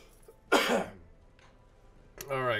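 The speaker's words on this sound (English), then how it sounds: "clear my throat" A man clears his throat with a short, rough rasp up close, followed by a brief quieter burst and then a voiced grunt-like sound.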